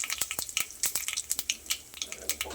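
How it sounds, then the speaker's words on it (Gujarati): Mustard seeds and cumin crackle in hot oil while tempering for a Gujarati sev tameta curry, giving a rapid, irregular stream of sharp pops and spits close up over a soft sizzle. "રાઈ જીરું સરસ તતડી ગયું છે."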